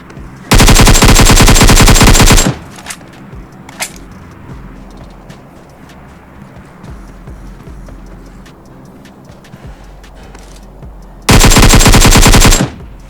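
Automatic gunfire in the mobile battle royale game PUBG Mobile, two loud sustained bursts of rapid shots at the start and end, with quieter game ambience, footsteps and a single sharp crack in between.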